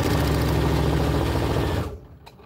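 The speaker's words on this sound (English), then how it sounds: "And you're going to sew them there too." A sewing machine runs steadily, stitching darts on a fabric bowl cozy, a close, even mechanical whir that stops abruptly near the end, leaving near silence.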